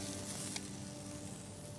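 Vegetables sizzle steadily in a hot pan as they are stir-fried for beef braised in beer, a continuous close crackling hiss with no talk.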